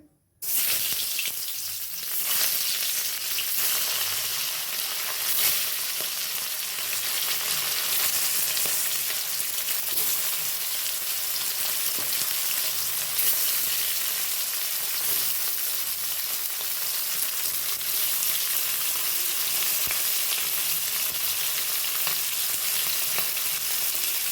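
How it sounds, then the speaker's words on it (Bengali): Fish rubbed with salt and turmeric frying in hot oil, a loud, dense, continuous sizzle that starts abruptly and holds steady, with faint scraping from stirring now and then. "তেল গরম হয়ে গেছে, এবার নুন হলুদ মাখিয়ে রাখা মাছ দিয়ে দেওয়া হচ্ছে"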